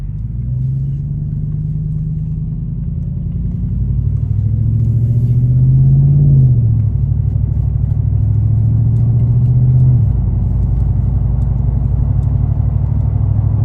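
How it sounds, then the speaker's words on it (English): A car, its intake filter and mass airflow sensor just cleaned, drives along with a steady close engine rumble that swells slightly as it speeds up mid-run, then settles back to an even drone. "I actually want to go for a drive to see if I notice any of that horsepower gain"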